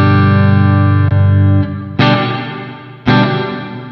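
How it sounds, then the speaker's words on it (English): A G-Lab Quiver Reverb guitar pedal, from the budget Rebel series, is heard as loud, effected guitar chords ringing out. Each is struck and left to decay into a lush, washy reverb tail, with a couple of fresh strums cutting in. "to me at least, it sounds like a whole reverb"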